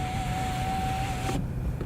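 A power window in a 2025 Opel Frontera whirs with a steady motor whine for over a second, then stops abruptly, leaving quiet cabin ambience.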